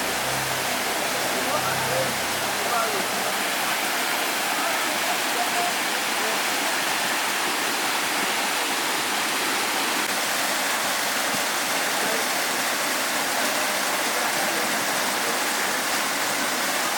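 A small waterfall rushes in a dense, even roar of falling water, close and constant throughout with no voices heard.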